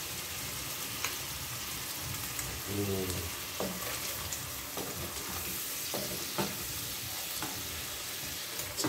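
Anchovies frying in a pan with shallots and garlic give a steady, close sizzle, broken by occasional stirring scrapes and clinks, with no talking.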